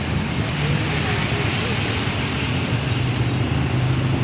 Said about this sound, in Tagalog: Tapos may hangin pa.